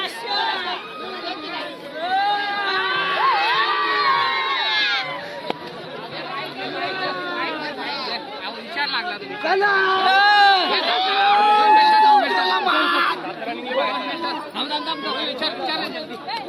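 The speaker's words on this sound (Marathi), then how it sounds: "मंडळी जल्लोष काही संपत नाही, बघू शकता" A crowd at a bullock cart race cheers and chatters loudly, with excited shouts and whoops rising and falling over a dense babble of voices.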